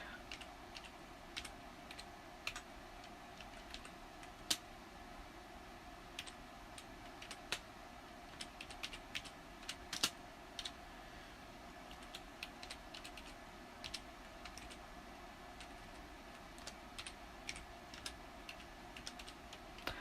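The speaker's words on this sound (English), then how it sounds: "I am typing with one hand here." Someone types one-handed on a computer keyboard, producing sparse, irregular key clicks with occasional sharper taps over a faint steady background hum, close and quiet.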